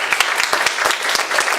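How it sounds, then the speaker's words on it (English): Brief, lively applause from an audience honouring speakers at the close of an integrative East-West sports medicine forum, with quick dense clapping that lasts under two seconds. "Let's give these guys a round of applause."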